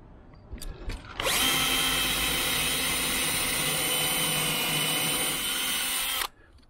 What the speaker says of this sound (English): drill our pilot hole